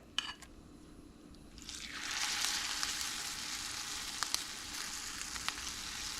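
Battered pickles drop into hot oil and sizzle, the frying swelling after a couple of seconds into a steady crackling hiss with small pops, fairly faint and with no talking.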